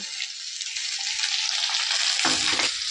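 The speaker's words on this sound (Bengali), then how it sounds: "গোটা সবজিগুলো ভালো করে ভাজা হয়ে গেছে" Whole vegetables, including eggplant, frying in oil for a Bengali gota seddho dish: a steady, close sizzle that holds throughout, with a brief low clatter of stirring near the end.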